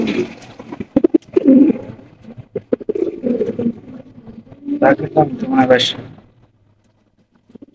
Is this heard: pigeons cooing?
yes